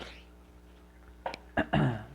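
After a quiet moment, a person clears their throat in a few short, rough bursts, close and fairly loud.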